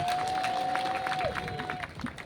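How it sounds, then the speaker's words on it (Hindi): A crowd at an outdoor protest rally applauds for a pastor, brief scattered clapping with a thin whistling tone over it, tapering off after about two seconds. "हमारा पास्टर दानियल तेली के लिए जोरदार तालियां।"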